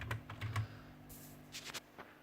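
Quiet close-up clicks of someone typing on a computer keyboard, a short irregular run of several key presses with small pauses between them.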